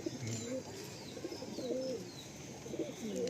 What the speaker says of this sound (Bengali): আর এটা হচ্ছে ধাড়ি পায়রা